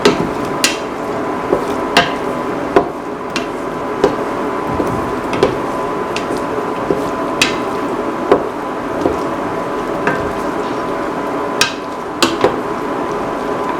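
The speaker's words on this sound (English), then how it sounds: "Mix the ash gourd pieces thoroughly with the rest of the mixture." Ash gourd pieces being sautéed and mixed in a pan: a soft, steady frying hiss runs throughout, with regular sharp taps of a spoon against the pan every second or so, close and clear, and no talking.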